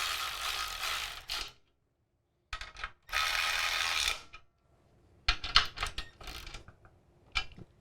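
A ratchet tightens bolts on a DOFReality H3 motion cockpit rig in short bursts of rapid clicking separated by pauses, close and moderately loud, with no talking.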